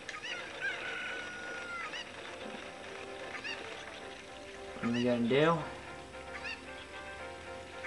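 Cucco chicken from The Legend of Zelda: Ocarina of Time, a game fowl squawking loudly in a rising burst of clucks amid game music, with someone talking over it.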